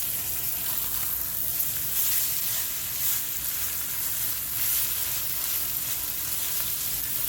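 Herring sizzles and crackles steadily as it fries in hot oil, a dense, even hiss that runs unbroken throughout with no voices.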